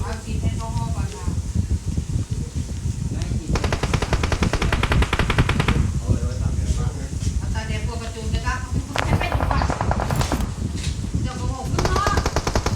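Sustained automatic gunfire from an enemy shooting while lying prone in a shooter video game, with rapid bursts rattling almost continuously near and loud while players talk over it.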